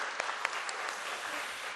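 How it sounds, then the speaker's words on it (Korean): A church congregation claps briefly after a choir's worship service. The applause is faint and distant, a soft patter of hands with a couple of sharper claps. "모든 영광 하나님께 박수를 올려드리도록 하겠습니다"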